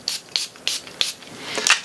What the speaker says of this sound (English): So let's go ahead and spray.